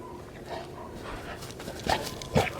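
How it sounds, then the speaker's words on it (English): Dogs romping in the snow, with soft panting and whimpers near the mic, followed by two sharper sniffs or yelps close together toward the end. "These dogs love the snow."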